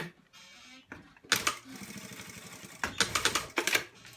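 A sewing machine stitches in the ditch over elastic on boys' shorts, giving bursts of rapid mechanical clatter separated by short pauses, close and moderately quiet.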